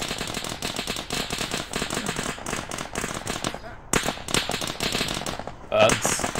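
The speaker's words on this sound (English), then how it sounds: "People are firing rockets at each other at base." Rockets fired at a base in the military video game Arma 3, a dense run of sharp crackling blasts and bursts throughout, with voices talking over the action.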